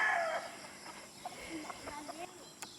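Roosters on a farm raising game-fowl stags: after a brief crow at the start, scattered clucks and calls continue at moderate distance, with some faint talk in the background.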